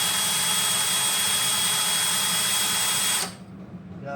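A Clam ice fishing auger driven by a power drill through a Power Drive plate whirs steadily with a loud, even mechanical whine, then cuts off abruptly near the end, leaving quiet room noise.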